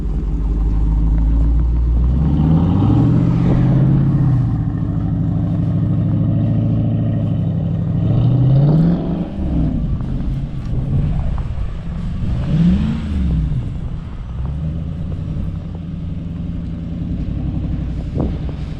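A 2014 Dodge Charger R/T with a manual mode drifts sideways through snow, its V8 engine droning loud and close, rising and falling through revs as it slides, with a deep rumble beneath.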